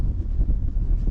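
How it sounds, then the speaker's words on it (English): Wind buffeting the microphone on an exposed moorland walk along Derwent Edge in the Peak District, a brief, low, continuous roar with no talking. "you got a wind blowing on you"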